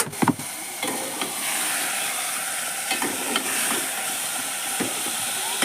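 Ginger garlic paste sizzles and hisses loudly in hot oil for a beef dish, a steady bright frying crackle with a few sharp clinks and scrapes from stirring scattered through.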